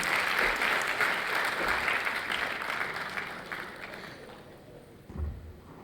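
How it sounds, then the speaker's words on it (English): A school annual day audience of parents and students applauds the principal, a full, steady roar of many clapping hands that gradually fades away, ending with a soft thump near the close. "Can you give a huge round of applause for our principal"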